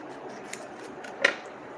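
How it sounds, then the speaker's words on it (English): Scissors snip through a flock sheet in a few quiet cuts, one sharper snip standing out near the end, close and faint. "then I will just cut off that excess portion"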